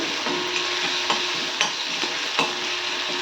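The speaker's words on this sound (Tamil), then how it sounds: "தக்காளி ஓரளவுக்கு வதங்கினா போதும்." Tomatoes sautéing and being stirred in a frying pan, a steady close sizzle with several sharp spoon scrapes and clicks against the pan.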